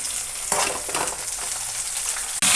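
Brinjal pieces sizzle loudly in a pan for roti dosakaya pachadi, a steady broadband frying hiss that swells as they go in and carries on close up with no voices.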